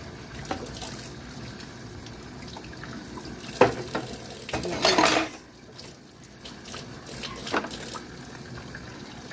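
Dishes being washed in a sink: a tap runs in short bursts while plates and cutlery clink and clatter, close and fairly quiet, with a louder splashing rush of water midway.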